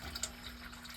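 Water trickles steadily back into the bilge of a boat from the sea chest, a continuous close, low-level flow with faint drips, and no voices.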